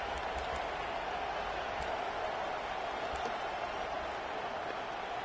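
Stadium crowd noise from a college football video game: a steady, distant wash of roaring spectators, faint and unbroken, with occasional soft accents rising out of the murmur.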